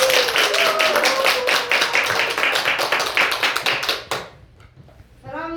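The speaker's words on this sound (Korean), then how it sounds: "찬성하면 박수" A live audience claps in approval of choosing a group leader during a Korean stage-play session, dense steady applause lasting about four seconds before fading, then a brief burst of voices near the end.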